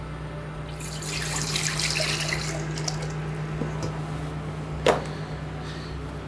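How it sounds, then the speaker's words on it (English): A litre of fish stock is poured into a cooking pot for a seafood chowder sauce, giving a steady liquid splashing and gurgling that builds and then settles, with a brief clink near the end. "we're going to go straight in with a litre of fish stock"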